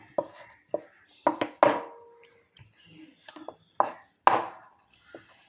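Dough for boli, a sweet Onam flatbread, being rolled out: a rolling pin knocks and rubs on the board in uneven, sharp taps with quiet gaps between, close and alone without talk.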